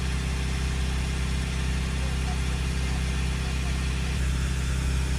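Citroen Relay 2.2 diesel van engine running steadily up close, a constant low-pitched drone with a slight rise in the final second, no clear separate revving bursts.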